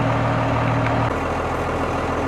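A Dodge Ram truck with a Cummins diesel on a road test, its engine droning loud and steady from inside the cab with no one speaking.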